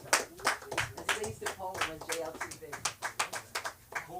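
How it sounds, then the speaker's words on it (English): Comedy club audience clapping for a comedian coming on stage, a brisk patter of hand claps with voices mixed in, fairly faint and distant. "Hold the applause."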